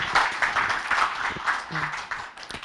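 Audience clapping at a book concert, a moderate patter of hands that rises and falls briefly, with a faint voice or tone near the end.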